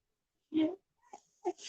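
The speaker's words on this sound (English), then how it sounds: "can you hear the dog" A dog whimpers indoors in a few short, thin whines, one slightly longer cry followed by two brief ones, heard faintly and fairly close.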